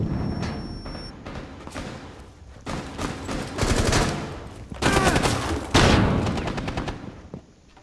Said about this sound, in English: Flashbang out! Great, I got flashed by my own flash.